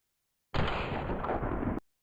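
A single FN Model 1905 pistol shot in the World of Guns simulation, a sudden loud blast that holds about a second, then cuts off sharply after a brief click.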